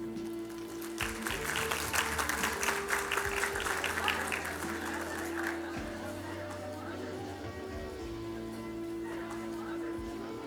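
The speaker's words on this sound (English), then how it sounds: "because they've waited so long, we can applaud each of Preethi Barashari." Graduation ceremony audience applauding, a dense crowd clapping that swells in the first few seconds and then settles into steady, softer clapping, with a low amplified hum underneath.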